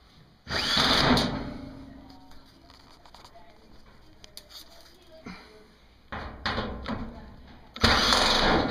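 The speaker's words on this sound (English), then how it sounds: "with my trusty screw gun, and I'm just going to take all the nuts off" Cordless screw gun backing nuts off the rear panel of a Maytag appliance, several short whirring bursts separated by quiet pauses and faint handling clatter, close by.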